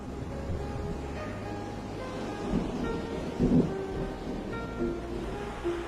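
A storm roars steadily, with strong wind blowing and a low, rumbling wash of noise that surges briefly in the middle.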